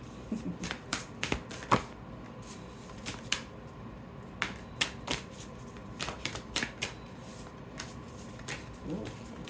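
Tarot cards shuffle and tap repeatedly at close range, sharp irregular clicks and riffles spread over several seconds, with no speech.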